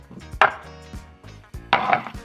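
A knife chops a 200 g block of unsweetened 52% cacao dark chocolate couverture on a wooden cutting board, giving a few sharp, close, knocking cuts with brief pauses between them.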